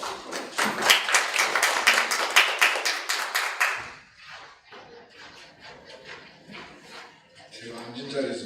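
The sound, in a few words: audience applause at a conference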